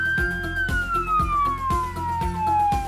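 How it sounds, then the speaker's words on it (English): A 100-watt single-tone SoundOff Signal Blueprint emergency siren wails loud and close, its tone sliding steadily downward while sharp repeated low bursts pulse beneath it. "purchase a 100-watt single-tone siren"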